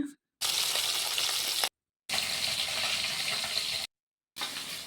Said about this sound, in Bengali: ওইদিকে মাছও ভাজা হয়ে এসেছে